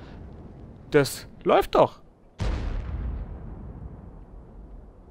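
A tank cannon fires in the World of Tanks game with a single heavy boom that rumbles away slowly, following a few spoken words.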